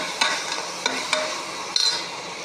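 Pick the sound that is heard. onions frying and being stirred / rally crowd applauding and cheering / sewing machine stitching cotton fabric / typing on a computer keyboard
onions frying and being stirred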